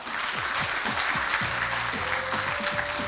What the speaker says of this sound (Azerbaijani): Bu meydan, bu iştirakçılar, bu da ki alqışlar